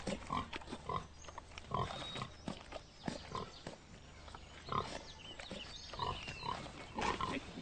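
A pig, a prize animal on a country estate in a period drama, gives repeated short grunts and snorts at close range, with irregular pauses between the bursts.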